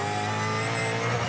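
Supercars race cars accelerating side by side in a drag race into turn one, several engines blending into a dense, loud, continuous roar for a short moment.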